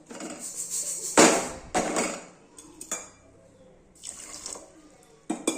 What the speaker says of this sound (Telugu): దీంట్లో కొంచెం వాటర్ పోయాలి.